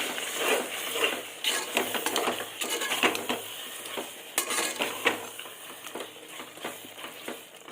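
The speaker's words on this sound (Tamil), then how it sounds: "நான் இந்த 1/2 டம்ளர் தயிர் எடுத்துருக்கேன். தயிர் மிக்ஸ் பண்ணிக்கலாம்." Yogurt being stirred into a chana dum biryani, with a spoon scraping and tapping repeatedly against the pot in an irregular rhythm over a light background hiss, close and moderately loud, no talking.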